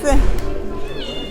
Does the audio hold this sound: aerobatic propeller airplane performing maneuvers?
no